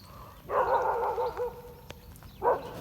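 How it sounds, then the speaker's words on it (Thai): A dog barks outdoors near flooded fish ponds: a drawn-out run of barks and yips, a pause, then one more short bark, moderately close with no talk. "หมาก็เห่า"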